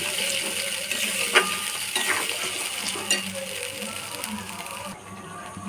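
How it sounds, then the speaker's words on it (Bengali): Spice paste with cashew is fried and stirred on low gas in a pan for a vegetarian paneer curry. A moderate sizzle sits under irregular metallic scrapes and clinks of the spoon against the pan. "এবার গ্যাসটাকে আস্তে করে মশলাটা ভালো করে কষে নেব"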